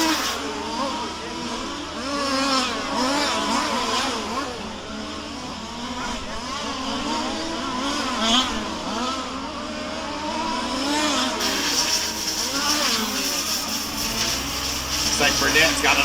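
Several race cars run laps around the track at a Warm Springs A Main feature, engines droning and revving continuously at mid distance while a commentator talks over them throughout.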